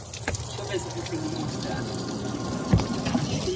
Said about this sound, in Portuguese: Olha a água aqui tá entrando pelos furinhos, vocês está tá vendo?